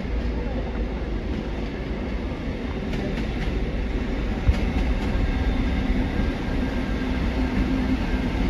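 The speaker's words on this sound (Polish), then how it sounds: "I mamy manewry takiej oto lokomotywy" A freight locomotive shunts at Lublin Główny station, its low steady rumble and rolling wheel noise continuous throughout, with faint rail clicks and a brief clank midway, heard from nearby on the platform.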